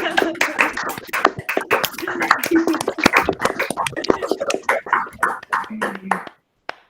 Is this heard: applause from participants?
yes